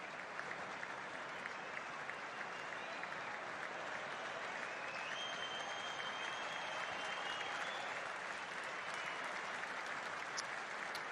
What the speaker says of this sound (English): we'll get a warm round of applause from the Adelaide crowd